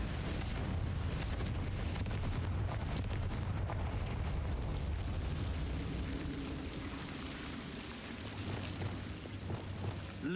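A Confringo blast spell erupting in the game Hogwarts Legacy, a loud, sustained rumbling roar and crackle that fills the clip before easing into lower churning debris sounds.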